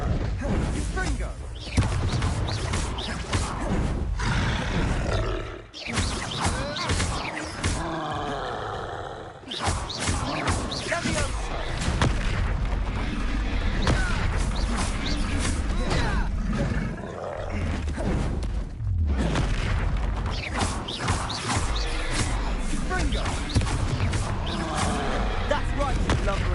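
Hogwarts Legacy combat with Confringo fire spells blasting enemies: continuous loud, dense battle noise of booming explosions, roars and thuds, with spell-casting voices mixed in throughout.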